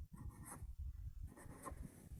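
Marker or chalk writing an index-form maths example on a classroom board, short scratchy strokes in quick bursts, close and quiet, with no voice.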